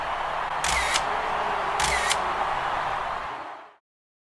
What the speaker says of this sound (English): It will shoot at any time you press the shutter, regardless of successful focus.